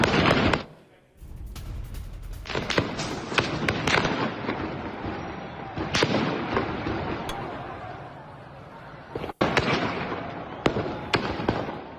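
During street protests in Iran, gunfire crackles in dense, rapid volleys. Sharp reports stack over one another almost continuously, with one short lull early on and a sudden cut near the end.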